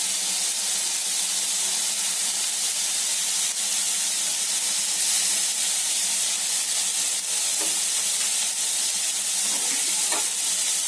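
Taro stem greens are stirred in a hot pan with lemon added, giving a continuous sizzle and hiss with a few scraping clicks from the utensil near the end.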